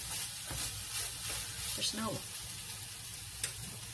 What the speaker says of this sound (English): We're sauteing now.